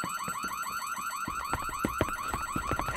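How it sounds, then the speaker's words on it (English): A car alarm blares with a rapid, repeating warbling tone, loud and close, over a steady rhythmic thumping beat, with no talk. "It's an alarm"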